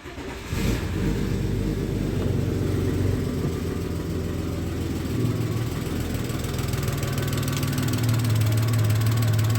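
A 1992 Audi 100 with a rough-running engine cranks over and catches, then settles into a steady, loud, close idle with a rhythmic mechanical clatter and no talking.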